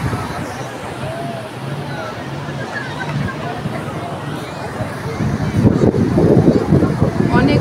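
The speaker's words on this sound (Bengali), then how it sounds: "অনেক বাতাস আর অনেক ঢেউ" Strong wind buffets the microphone at a seashore on a cloudy afternoon, with a continuous roar of surf and waves that swells louder near the end, and faint voices mixed in.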